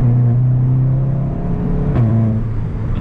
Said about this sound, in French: Ça pète plus à bas régime.